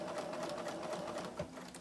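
Sewing machine running steadily as it stitches fabric, a continuous close whirring hum with a brief bump near the end, no talking.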